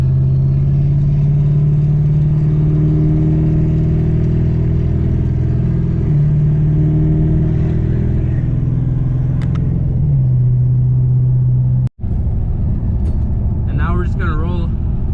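A Chevrolet Duramax LB7 diesel truck engine with a stock setup rumbles loud and close, climbing in pitch as the throttle rolls on, holding, then surging again after a brief dropout, with a voice speaking over it.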